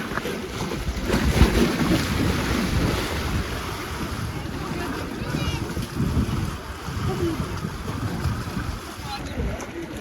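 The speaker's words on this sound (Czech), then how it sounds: "Fouká tu, jsou vlny." Wind buffets the microphone at the seaside on the Croatian coast while waves wash in steadily, a continuous broadband roar with gusts throughout.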